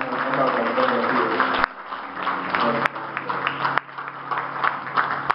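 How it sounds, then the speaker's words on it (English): Church congregation clapping in praise during a service, a broad wash of hand claps over sustained organ or keyboard tones, with a voice speaking over it and abrupt shifts in the sound. "give God a hand clap"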